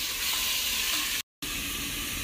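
Onion and spices frying in a pan, a dense, steady sizzle close by that is cut by a brief gap of silence partway through, with no voices.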